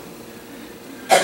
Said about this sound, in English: Stop that cough.